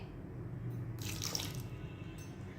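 A splash of water is poured into spices frying in a pan, giving a short hissing gush of liquid over a low background hum, close and without any talking.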